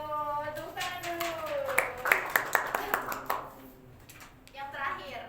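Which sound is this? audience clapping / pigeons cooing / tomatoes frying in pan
audience clapping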